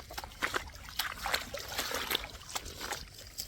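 Water in a flooded rice paddy trickles and splashes in short, uneven bursts, close by and fairly quiet, with no talking.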